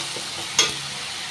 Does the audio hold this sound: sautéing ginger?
yes